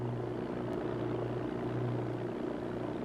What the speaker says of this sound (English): Civilization's most extraordinary gift has been the airboat.